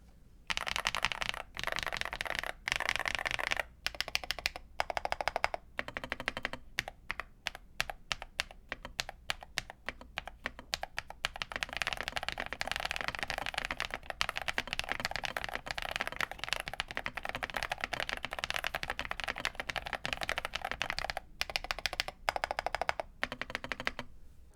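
Typing on a Gravastar K98 Pro mechanical keyboard, a 1.5 kg board, with fast, dense runs of crisp key clacks broken by short pauses, close and clear, no voices.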